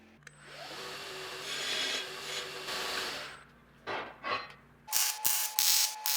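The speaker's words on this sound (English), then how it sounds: "I'm beveling those inside corners to give me a V-notch to weld in." Grinding bevels into the inside corners of a custom metal tool stand, cutting V-notches for welding: a sustained abrasive rasping roar for about three seconds, then shorter bursts of grinding with brief pauses, close and fairly loud.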